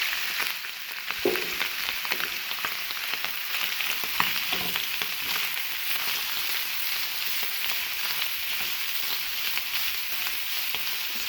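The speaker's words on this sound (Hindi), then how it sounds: "मैं इसमें ऐड कर रही हूँ उबली हुई चिकन।" Boiled chicken pieces fry in hot oil in a pan, a loud steady sizzle with crackling pops throughout and no voices.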